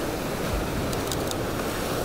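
Ocean surf washes onto a beach at Pantai Indah in Bengkulu, a steady soft roar of breaking waves with light wind buffeting the microphone.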